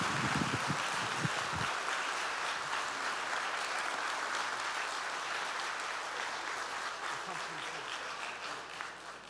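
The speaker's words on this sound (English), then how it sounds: "one more round of applause for the Seal of Biliteracy recipients." Audience applause for Seal of Biliteracy recipients at a school district board meeting, a quiet, distant, even patter of clapping that holds steady throughout, with a brief low murmur near the start.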